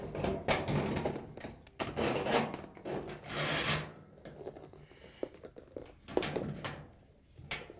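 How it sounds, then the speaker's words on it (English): Pliers squeeze a spring clamp on the drain hose of a Frigidaire washer, making close scraping, rubbing and clicking metal sounds in irregular bursts with short quiet gaps. "We're going to use a pair of pliers to squeeze it and get it to release."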